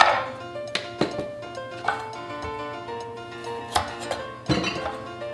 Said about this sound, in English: Then I'm just gonna cut the end off of two Roma tomatoes here and then split them right down the middle.